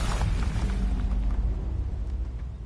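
Fiery explosion spells cast in Hogwarts Legacy, heard as a dense, rumbling blast with deep low booms and crackling bursts that gradually fade.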